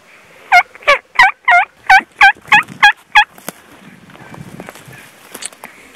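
A wild turkey gobbles during a Washington spring hunt, a rapid string of about nine loud, clear, evenly spaced rattling notes, followed by faint rustling and quiet outdoor ambience.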